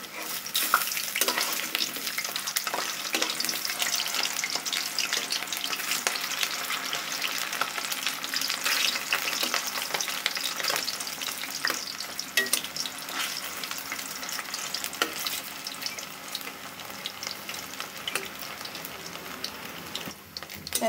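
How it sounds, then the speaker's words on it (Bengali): Chicken and cauliflower koftas frying in hot oil, a steady close sizzle throughout with occasional scraping and clinking as the pieces are stirred and turned over. "এভাবে ভেজে নিব কিছুক্ষণ, পরে উল্টিয়ে পাল্টিয়ে ভেজে নিব"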